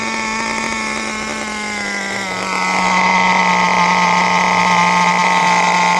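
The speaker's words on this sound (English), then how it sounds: "Still sounds okay. Still got the idle a little high here" An HPI Nitro R40 RC car with an OS 12TZ nitro engine idles high and steady on its own, a close, buzzy whine with strong harmonics that rises slightly partway through and holds.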